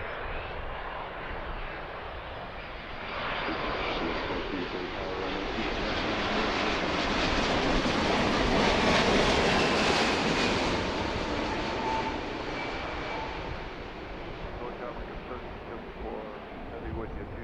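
An American Airlines Dreamliner takes off from runway 27 left, its jet engines building into a broad, loud roar that swells to a peak midway and then slowly fades as the aircraft climbs away, heard from a distance outdoors.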